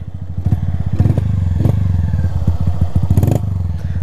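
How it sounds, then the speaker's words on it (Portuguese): A motorcycle that will not start: a starter cranks in a rapid rhythmic chug with repeated clattering bursts, the engine never catching, loud and close. "A moto não queria ligar, mano."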